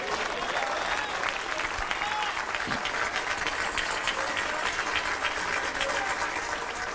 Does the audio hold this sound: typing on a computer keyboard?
no